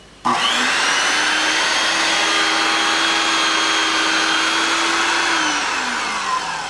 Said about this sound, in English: I'm going to put the switch on, which will run the beveler, which will make it, it'll be very loud, and I'm going to bevel the edge of this carpet.